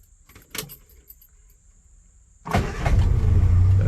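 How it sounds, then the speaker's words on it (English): A classic car's engine cranks and fires up with a single turn of the key, a quiet click and key jingle first, then a sudden loud, steady idle that rumbles on with the choke set. "This is how you start the car."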